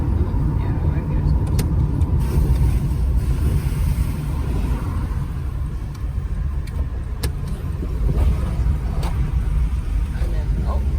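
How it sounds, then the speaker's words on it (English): Dense road traffic rumbles continuously on a road in St. Mary, Jamaica, with cars and a bus passing close by, engine noise steady and loud throughout, and faint voices under it. "Oh, okay, that's the traffic."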